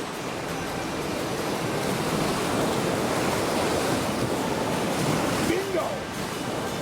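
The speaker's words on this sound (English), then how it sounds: "They encounter some big rapids, but they manage to clear them." Canoe running big river rapids on the Sorachi River in Minamifurano, Hokkaido: a steady, loud rush of white water fills the scene, with a brief voice near the end.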